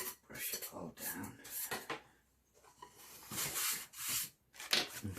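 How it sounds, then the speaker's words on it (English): A brush sweeps sanding dust off a wooden surface into a bin in short, close scratchy strokes, separated by brief pauses, with a person talking in between. "Let's just brush that off into the bin. I do have a brush. Let's brush it all down."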